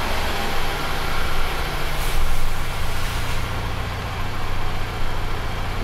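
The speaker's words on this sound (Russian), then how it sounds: "Двигатель до рабочей температуры я прогрел, обороты снизились" A warmed-up 2007 Toyota Avensis 2.0 engine idles steadily nearby at about 880 rpm, a smooth continuous low rumble with an even hum and no talking.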